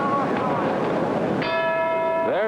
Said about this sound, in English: There's the bell for round number 6.